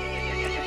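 A horse from the video game Resident Evil Village neighs, a short, loud, harmonic whinny with hoof clip-clop, close and alone with no talk.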